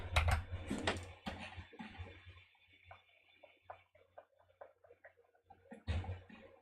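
Keys clacking on a mechanical keyboard with tactile switches: a burst of fast, close typing, then sparser, softer individual taps, and another brief flurry at the end.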